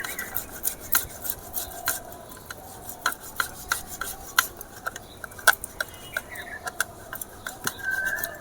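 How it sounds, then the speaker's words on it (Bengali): Raw potatoes rubbed against a kitchen grater in quick rasping strokes, a close, fairly quiet series of scrapes in an uneven rhythm, with occasional clinks and no talking. "এরকমভাবে সমস্ত আলু আমি গ্রেট করে নেব"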